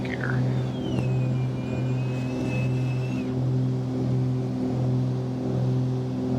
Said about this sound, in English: It is amazing how similar that gear sound is to the one in the simulator.